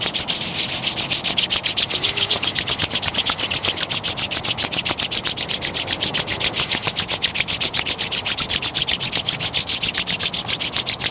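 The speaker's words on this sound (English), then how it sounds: "begin to rub our hands, generating some last heat" Palms rubbing briskly together to build warmth at the close of a seated yoga flow, a steady, fast, close-up swishing friction that runs continuously and evenly for the whole stretch with no talking.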